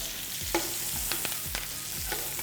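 Butter sizzles steadily in a hot pan beside a rib eye steak as it browns toward noisette, a continuous frying hiss with a few soft scraping and clinking sounds from utensils.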